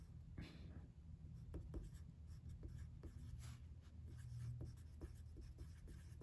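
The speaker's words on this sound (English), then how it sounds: "and we write there" Pen or pencil writing on paper while setting up a drawing of oblique shapes, a faint close scratching made of short strokes and taps in an irregular rhythm, quiet with no voices.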